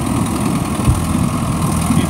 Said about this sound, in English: The motor sounds good.